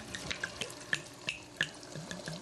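Chardonnay white wine poured from a bottle into a cooking pan, giving a close, splashy liquid trickle broken by small irregular drips and plops over a couple of seconds, with no talking.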